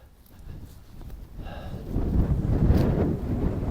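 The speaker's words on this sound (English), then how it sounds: "Up here you get the wind coming through." Wind blowing through an autumn Atlantic rainforest on an island in a freshwater loch, a low rushing gust that swells and grows louder over a few seconds, mostly rumbling against the microphone.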